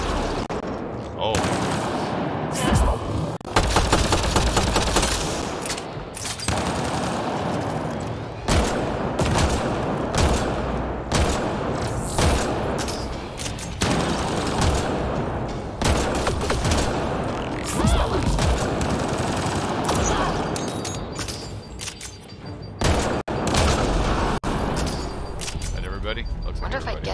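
Turret gunfire in the Mass Effect Andromeda video game, long loud bursts of rapid automatic shots with brief gaps between volleys, and a voice speaking over the shooting at times.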